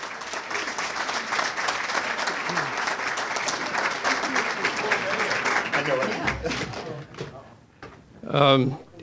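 A crowd at the City of Elmhurst State of Our City event gives Bill a round of applause, dense steady clapping that fills most of the clip before fading, with a short sharp knock near the end.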